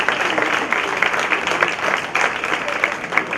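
An audience at a student felicitation ceremony in Bangalore applauds steadily to welcome a teacher and a top-ranking student, with dense clapping filling the hall and a voice faintly underneath.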